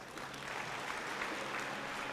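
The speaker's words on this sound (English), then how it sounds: "Give them a big round of applause." Audience applause for a skit about family harmony at a spiritual talk in Silicon Valley, a steady wash of many hands clapping that holds evenly for the whole stretch.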